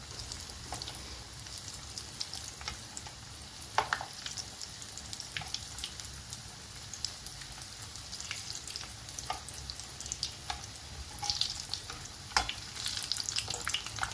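Ta'meya, Egyptian falafel, frying in hot oil: a dense, steady sizzle with scattered sharp crackles and pops that runs the whole time, close and fairly loud, with no talking.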